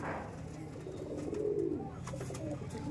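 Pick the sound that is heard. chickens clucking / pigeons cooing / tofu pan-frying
pigeons cooing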